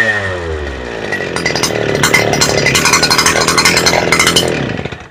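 A Stihl FS 250 brush cutter's two-stroke engine catches after a pull start, rising from a rough idle into a loud, steady, buzzing run up close before easing off at the end.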